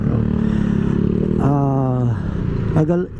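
A Yamaha NMAX V2.2 scooter engine restarting after an automatic idle shutdown, then revving up with a short throttle blip, loud and close with a rising engine pitch, ending in a second quick rev.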